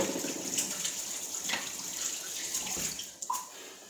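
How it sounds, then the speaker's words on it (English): Hands are washed under a running kitchen tap, a steady close rush of water with a small splash and a break in the flow near the end. "I'm going to wash my hands"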